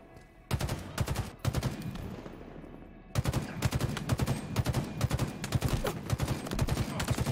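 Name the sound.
gunfire in Halo Infinite video game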